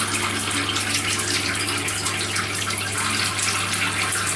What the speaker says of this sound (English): we add a little bit of water from the top shower head here